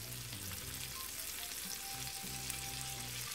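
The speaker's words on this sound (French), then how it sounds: "Dans une poêle, je mets un morceau de beurre avec un petit peu de l'huile d'olive." Butter and a little olive oil sizzling in a frying pan as the butter melts, a steady dense crackling hiss with faint low hum beneath, close and even throughout without any voices.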